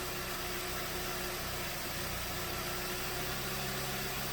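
2016 VW Golf 1.8 petrol engine with a hard-start and random-misfire fault, running close-up at idle with a steady droning hum and a constant whining tone, no voices.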